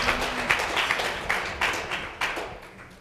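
An audience claps to welcome guest speakers at an evening panel on women world leaders, a moderate patter of hands with a few sharper individual claps standing out, steady for a few seconds.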